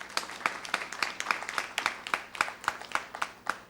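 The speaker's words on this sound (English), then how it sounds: "please do join me in welcoming Prabir by a big round of applause" Audience at a formal keynote event applauding, a steady patter of many hands clapping at moderate distance for a few seconds.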